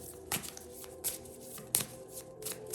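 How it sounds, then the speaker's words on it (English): Oracle cards from a Super Lunaris deck are handled and separated, giving three or four crisp papery snaps and riffles spaced under a second apart, close and fairly quiet. "let me just separate the cards"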